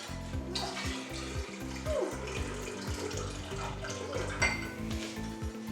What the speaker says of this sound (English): gonna pour that apple juice into this.